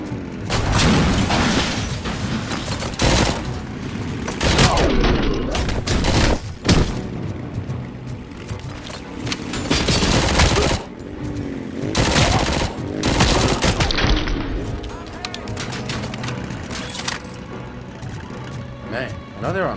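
Heavy, sustained gunfire from the RoboCop Rogue City video game as bikers are shot at, dense bursts of automatic fire and booms nearly continuous and loud, with brief lulls between volleys.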